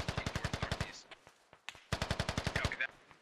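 Rapid automatic gunfire in a military video game, two sustained bursts of evenly spaced shots separated by scattered single cracks, fairly close and punchy.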